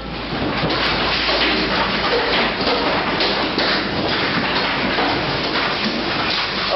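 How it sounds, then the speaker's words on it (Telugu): A hailstorm pounds a glass-walled house as a loud, dense, continuous roar of hailstones hits the panes, with scattered heavier thuds and no talking. "ఇతను ఊహించని విధంగా మంచు వాన కురిసింది"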